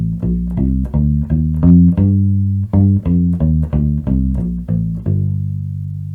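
Deep plucked notes from a bass ukulele running through a minor scale, a brisk even sequence climbing and descending, close and loud, ending on a held low note.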